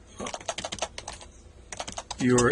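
Rapid keystrokes on a computer keyboard, a quick irregular run of close, crisp clicks with a short pause midway and a louder burst of other noise at the end.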